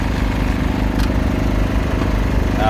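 A 2000-watt Champion inverter generator used as a truck's auxiliary power unit drones steadily nearby, a low even hum with a faint ticking pulse, continuous and unchanging, with no voices.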